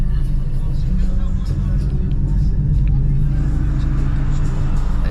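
A Shelby GT350's engine rumbles deeply and continuously during a late-night city drive, heard close from inside the car while people talk over it.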